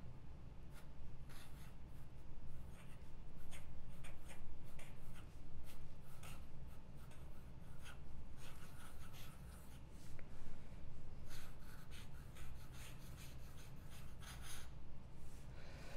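A fountain pen with a round ornament nib writes on paper. Faint, close scratching strokes come in short irregular bursts with brief pauses, and nothing else is heard.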